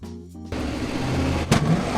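A 1962 Ford Galaxie 500 Lightweight, a factory drag-racing car, idles with a lumpy throb, then its engine roars up into a sustained loud rev, with a sharp burst near the end.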